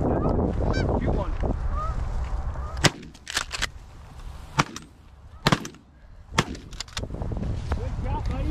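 Shotguns firing during a goose hunt in New Jersey, several sharp loud blasts spaced through the clip over a constant backdrop of honking geese.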